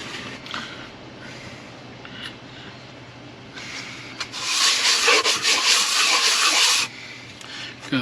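Abrasive sanding on the left cylinder head surface of a Ford 5.4L engine, a steady gritty rubbing that swells into a loud, harsh burst for a few seconds before easing back.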